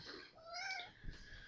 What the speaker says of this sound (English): Now they just hear you meowing.